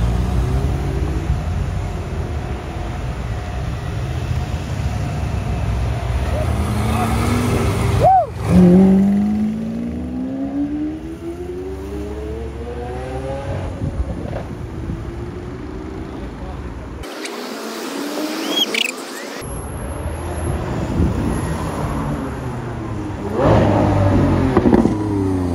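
A car's engine roars and revs as it pulls away, rising and falling through gear changes and loud throughout, with someone talking excitedly over it and a short break near the end.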